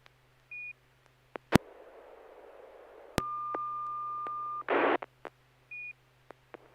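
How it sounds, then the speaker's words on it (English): A steady single test tone sent over a ham radio SSTV net, held for about a second and a half between short beeps, clicks and a burst of static, clear and fairly loud over a low radio hum. "Let me send a tone."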